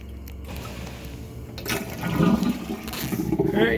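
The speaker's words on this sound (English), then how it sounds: "I can actually hear water still going in there." Water from a hose running into a motorhome tank, a gurgling rush that swells louder midway and keeps flowing with sloshing fill sounds.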